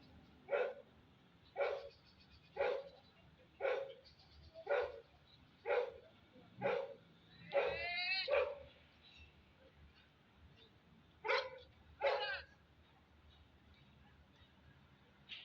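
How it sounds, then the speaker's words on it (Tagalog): A dog barks repeatedly at a distance on a mountain, evenly spaced single barks with a brief cluster in the middle, over quiet background hiss. "marinig yung sa bundok na yan marinig yung may tumatahol"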